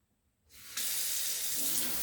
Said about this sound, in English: we're getting a little bit of a leak at the faucet, kitchen spray faucet here